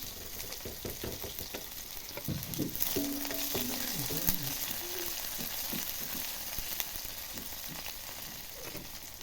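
Onions sizzle in hot oil in a wok alongside pork, a steady crackling fry with faint stirring clicks throughout, close and continuous.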